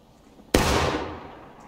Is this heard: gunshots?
yes